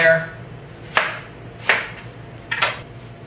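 A knife slices thinly through an onion on a cutting board, three crisp, separate cuts landing close by at uneven intervals with no talking.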